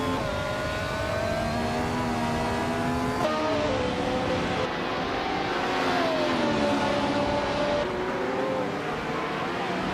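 Ligier JS race cars in a racing video game, their engines droning and rising in pitch through shifting gears, a sustained mid-loud whine with several cars layered together and no clear talk.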